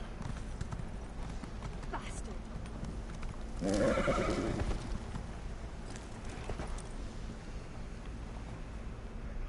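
A horse in the Elder Scrolls Online video game clip-clops along with steady hoofbeats, then gives one loud neigh midway, all over a low wind-like background bed.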